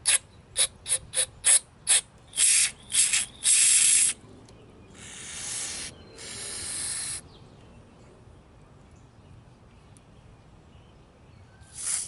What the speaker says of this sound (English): I'm going to spray brake cleaner up there